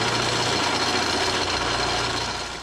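Drill boring out a rear axle spring hanger on a 2005-plus Ford Super Duty axle being swapped under an older Ford truck, a steady loud motor whir with constant vibration throughout, no talking.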